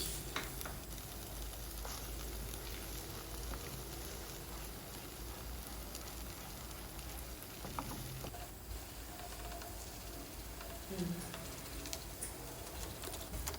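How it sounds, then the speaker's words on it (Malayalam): Egg being scrambled and fried in a pan with onions for biryani, a continuous close sizzling hiss with occasional light scraping of a spatula. "മുട്ട ഒന്ന് നന്നായിട്ട് ചിക്കിയെടുക്കണം."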